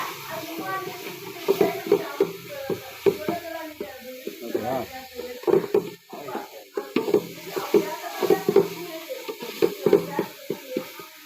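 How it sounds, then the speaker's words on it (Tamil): Tomatoes for garlic rasam frying in a pan, stirred in repeated scraping strokes over a soft sizzle, with talk running underneath at times. "தக்காளி போட்டு கிண்டி தக்காளி நல்லா கிண்டணும்."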